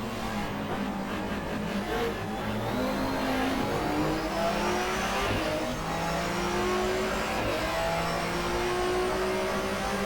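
Race car engines in a 1994 German Touring Car Cup race at the Nürburgring in the GTR2 game drone and rise steadily, with pitch sweeps from downshifts and acceleration across the whole stretch, no voices.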